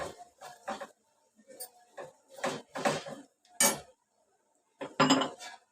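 Spoon scraping and knocking against a pan as a jaggery and ghee mixture for sesame laddu is stirred over low heat: irregular close clinks and scrapes in short bursts with pauses between.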